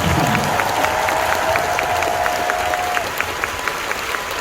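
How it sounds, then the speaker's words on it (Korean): A concert audience applauds steadily at an encore show in Seoul, a dense, even wash of clapping that holds throughout, with a sustained tone sounding over it for the first few seconds. "영상에 모션 그리고 한국 DLP 이분들께 큰 박수"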